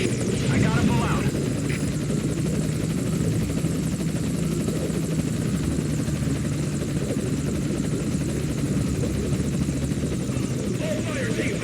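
An enemy helicopter in Metal Gear Solid V: Ground Zeroes, its rotor roaring loud and continuous throughout, with radio-style voices talking over it.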